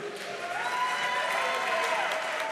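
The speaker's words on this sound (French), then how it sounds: "Applaudissements pour eux." Audience applause at a voice actors' conference at TGS Toulouse 2019, a dense, steady clatter of many hands clapping together throughout, fairly loud and sustained.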